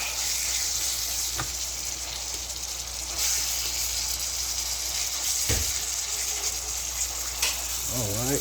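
Shrimp and ground beef fry in a pan with a strong, steady sizzle under a low hum, while occasional spatula scrapes mix them; a voice speaks briefly near the end.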